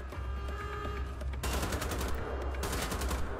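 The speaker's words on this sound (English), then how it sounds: "I'm shooting at the metal wheel" Rapid gunfire striking a metal wheel in Wolfenstein: The Old Blood, two loud bursts of fast repeated shots with hard metallic impacts, separated by a brief pause, over a low rumbling game background.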